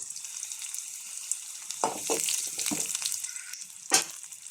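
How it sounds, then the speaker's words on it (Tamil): Shallots, curry leaves, mustard seeds and asafoetida fry in a pan with a steady close sizzle, and a few louder pops and crackles break through the hiss. "சின்ன வெங்காயம், கறிவேப்பிலை, கடுகு, பெருங்காயம்லாம் போட்டு வச்சு நல்லா பொன்னிறமாக ஆன உடனே"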